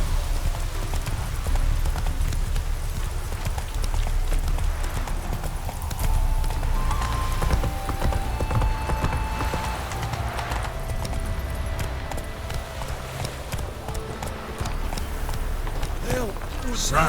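Roach, the horse in The Witcher 3, gallops with steady, fast clip-clop hoofbeats through town streets under a constant rumble of game sound, and a voice speaks over the gallop.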